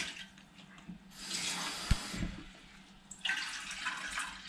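Water runs from a tap into a pot of washed lentils to soak them, in a home kitchen in Germany; two bursts of pouring with a clunk between them, close and fairly quiet, no talking.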